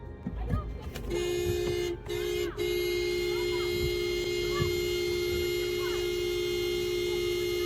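A car horn blares in short honks and then one long sustained blast during a confrontation with a neighbor blocking the car, fairly close, with faint voices and street noise underneath.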